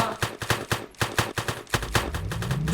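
Rapid automatic gunfire in the One-Armed Robber video game, a steady run of sharp, evenly spaced shots, close and loud, about a dozen in under three seconds, with no talk over it.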